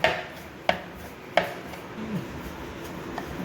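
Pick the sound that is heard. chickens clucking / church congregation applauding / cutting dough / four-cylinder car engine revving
cutting dough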